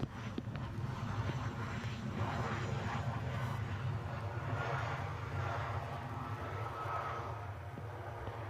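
A Ryanair airliner at Edinburgh airport produces a low, distant engine rumble that holds steady under wind noise, faint and continuous throughout.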